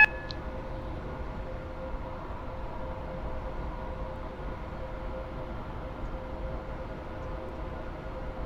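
Steady low rumble of a train running in the Roblox game Stepford County Railway, with a continuous hum and a faint tonal whine, even and unbroken throughout, no talking.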